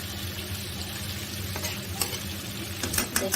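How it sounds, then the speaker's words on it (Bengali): Hilsa fish sautéing with spices in a pan, a steady close sizzle with scraping stir strokes and a few sharp clinks near the end, with no talking. "মাছটাকে ভালোভাবে কষিয়ে নিচ্ছি"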